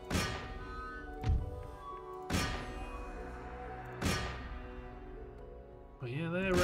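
Artillery fire in Empire: Total War, four heavy booming cannon shots at roughly even intervals, each with a ringing decay, followed by a rising tonal game sound at the end.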